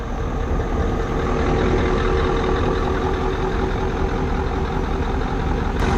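Heavy trucks run steadily at the Truckfest Lincoln 2025 show, a continuous loud low engine drone and idle rumble with no pauses.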